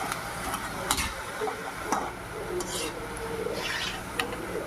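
Onion pakoras deep-fry in hot oil with a soft, continuous bubbling sizzle, broken by a few sharp clinks of a slotted spoon or utensil against the pan, moderately close.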